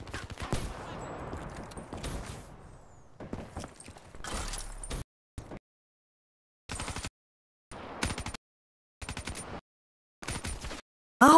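Turret-like machine gun in a shooter video game firing in rapid sustained bursts, first a long stretch of fire, then short separated bursts with silent gaps between, loud and close with no talk.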